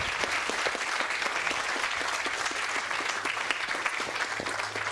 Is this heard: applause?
yes